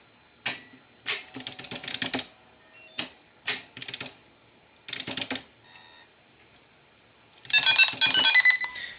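Short bursts of keypad tones and clicks ring out while a Viking E-1600A emergency phone is programmed for central station mode, several separate press groups spaced across the clip and ending in a longer, brighter sequence.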